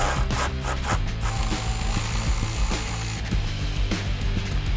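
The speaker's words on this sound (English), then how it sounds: "we got the 6 bolts removed, and the last 2 bolts are just loose" A ratchet backing out the side step bolts on a Toyota Tacoma, a loud, close, rapid clicking mechanism that runs steadily over a low mechanical drone, with no speech.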